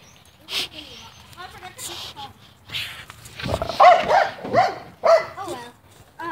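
Dog barking outdoors in short yips and woofs, scattered through a few seconds and mixed with nearby talking voices.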